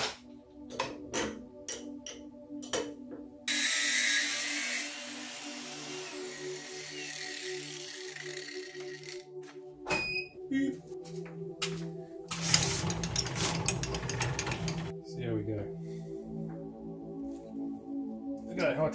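Cutting the head off a high tensile steel bolt with a power tool: two harsh bursts of grinding noise, one near the start and one later, with lighter ticking and tapping between them and someone talking through much of it.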